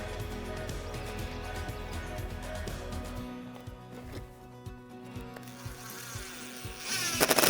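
Power drill driving temporary screws to hold a mounted panel in place, a steady low motor whine through the first half, then shorter intermittent bursts and a louder whirring surge near the end.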